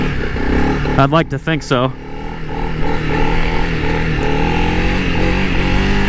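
A Honda CRF300L dual-sport motorcycle powering up into a wheelie, its engine droning steadily close by while a rider talks briefly near the start.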